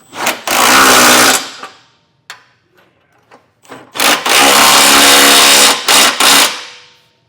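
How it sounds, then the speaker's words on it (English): An impact tool tightens trailer hitch bolts with an 11/16 inch socket on a 2025 Mazda 3, loud close rattling bursts: one long run, a pause with small clicks, then another long run and short taps. "We'll take an 11/16 inch socket and tighten our hardware down."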